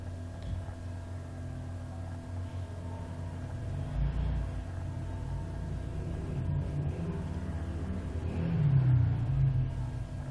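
A 2019 Suzuki Every push-start van engine runs with a constant low hum, then swells into a brief, louder rev near the end before easing off, heard close with no talking.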